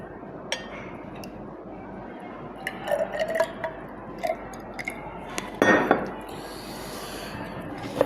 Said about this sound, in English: And I add water to it